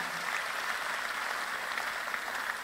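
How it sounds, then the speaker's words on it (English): Audience applause after a call to honour a speaker at the IYES 2026 event, a steady, dense wash of clapping that holds evenly through the short stretch, moderately distant and without voices on top. "Please, let's give him a round of applause."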